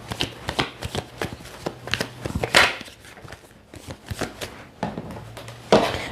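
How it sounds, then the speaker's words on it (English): Tarot cards are shuffled by hand in a series of crisp, close riffles and soft papery slides, arriving in irregular bursts with short pauses between them and one sharper snap of cards near the end. "One more shuffle for my Scorpios."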